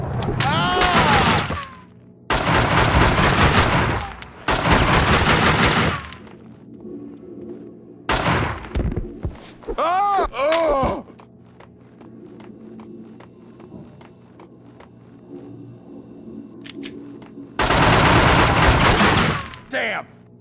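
Gunfire in the Max Payne 2 video game: loud bursts of rapid shots in long blasts separated by quieter gaps, with shouted voices in between.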